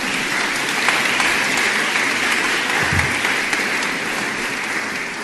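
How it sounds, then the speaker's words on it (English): A conference audience gives warm applause to welcome a keynote speaker onto the stage, a steady, full wash of clapping from a large crowd that stays even throughout. "can I get a warm applause for Ms."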